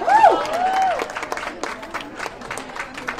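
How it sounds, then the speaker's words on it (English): Audience applause welcoming a guest speaker to the stage at a community education talk, a burst of clapping with a couple of high whoops at the start, then settling into steady clapping. "So give her a huge round of applause"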